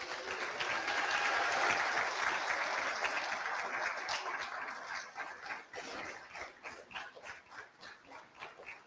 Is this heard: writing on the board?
no